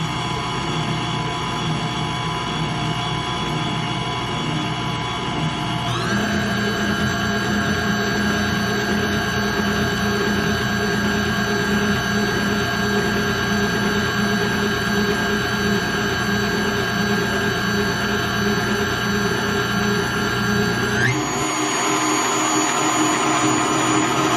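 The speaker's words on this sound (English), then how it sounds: "we're going to go ahead and use this mixer for now" Electric stand mixer whirring steadily as it beats vanilla cake batter from scratch, a loud continuous motor drone whose pitch steps up partway through and drops near the end, with no talking.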